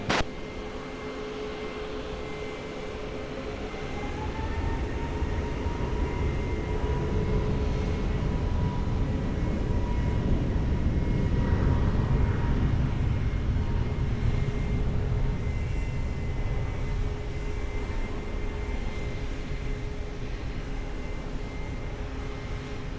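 Airliner taking off from runway 20 at Lisbon Airport, a distant broad jet roar swelling over several seconds and then holding steady, with a faint whine above it.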